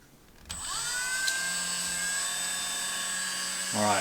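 A Dremel rotary tool fitted with a buffer wheel spins up with a rising whine, then holds a steady high-pitched hum close by for several seconds before it winds down.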